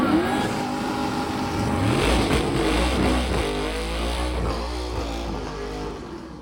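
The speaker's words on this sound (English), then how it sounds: "We got the C4 Corvette." A C4 Corvette engine revs and accelerates hard at a street racing event, a loud rising and falling roar with a deep rumble underneath, close by.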